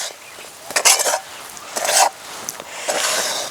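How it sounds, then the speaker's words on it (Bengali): A spoon scraping and clattering in a pan while stirring a white Deoli dal laddu mixture with ground cardamom seeds, in short uneven bursts of metallic scraping close up. "এবার একটু নাড়াচাড়া করে নেব।"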